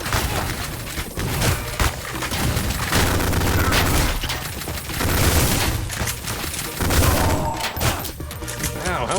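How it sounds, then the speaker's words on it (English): Dense, loud gunfire and impacts in the retro shooter Ion Fury, sustained bursts of shots and thuds pounding the player throughout, with a voice briefly reacting over the chaos. "how am I still getting shot?"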